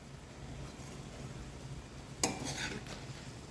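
Veg fried rice being slowly stirred and mixed in a pan, with a low steady background and a brief clatter of utensil against the pan partway through.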